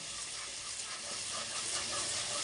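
Ginger garlic paste frying in a pan with sweet corn, a steady broadband sizzle and hiss that holds even and continuous throughout.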